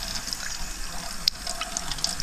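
Tap water runs steadily into a sink at close range, a soft continuous stream with a few faint splashy ticks and no voices.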